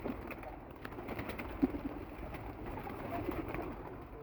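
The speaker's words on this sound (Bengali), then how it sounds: "এই যে এখন কবুতর ছাড়বো" Pigeons being let out of a home loft give a steady, low cooing murmur at moderate distance, with a brief fluttering burst partway through.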